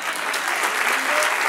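Steady, dense applause from a church congregation, a continuous wash of many hands clapping at full level with no pauses throughout.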